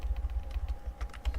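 Quick, soft keystrokes on a computer keyboard patter in an uneven run of clicks, close and quiet, with a low hum underneath and no talking.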